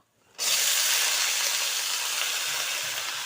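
Water lily stems hit hot oil in a pan with a sudden loud sizzle that holds steady as a broad, continuous hiss, with no talking.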